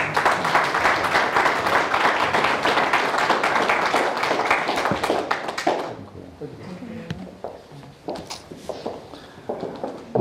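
An audience applauds at a local election campaign event in the Konstantynów commune. The dense clapping holds steady for about six seconds, then thins out to a few scattered claps and quiet room noise.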